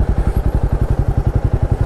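A Himalayan 450 motorcycle climbing uphill, its single-cylinder engine thumping in a fast, even pulse close to the listener, loud and steady for the whole stretch.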